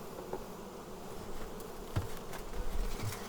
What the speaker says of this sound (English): You can see the bees are pretty calm.